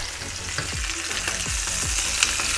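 Sous-vide chicken breast searing in a frying pan, a steady close sizzle with several soft thumps and scrapes as the meat is turned, no voices.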